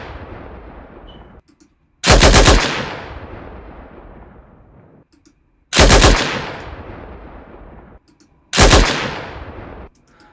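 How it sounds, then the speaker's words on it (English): Lewis gun machine gun fire in three separate loud bursts, each sharp rattling volley dying away into a long rumbling echo tail before the next one starts. "And that is the Lewis gun."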